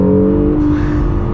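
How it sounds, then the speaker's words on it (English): An Acura NSX supercar accelerating gently, its engine giving a loud, steady, close rising hum and whir for a brief moment. "So I'm gonna slow down here a little bit so we can get another just minor acceleration."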